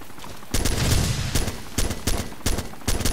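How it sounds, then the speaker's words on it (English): Heavy bursts of automatic gunfire and ground-to-air fire crackle through a realistic war video game battle, several loud volleys separated by brief pauses, with no talk over them. "I see a bunch of gunfire, ground-to-air fire."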